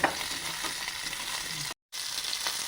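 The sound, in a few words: small onions sautéing in oil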